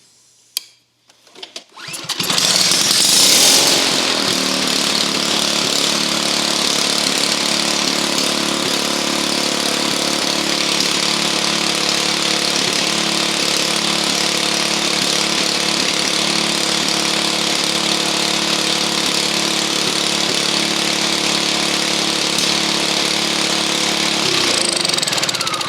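A small engine with its muffler removed starts after a few brief attempts, then runs loud and steady at close range with a harsh, unmuffled, continuous roar.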